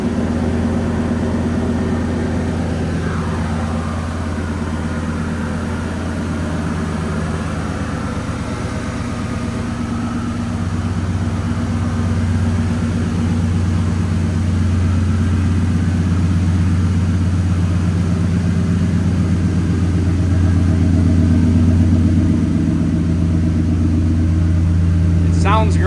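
A 1987 GMC Sierra 1500 4x4 pickup truck engine runs steadily at idle, a low continuous hum and rumble that stays constant throughout.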